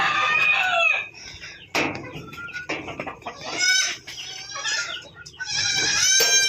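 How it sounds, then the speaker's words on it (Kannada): Chickens cluck and a rooster crows at a country-breed poultry farm, a close, busy run of overlapping calls and squawks with no talk. "ನೋಡಿ ಗಾಯ್ಸ್, ಕೋಳಿಗಳು"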